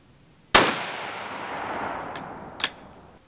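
A single loud, close crack from a Savage Axis .308 bolt-action rifle fired while sighting in an AIM 3-12x50 scope, with a long decaying echo and a smaller sharp report about two seconds later.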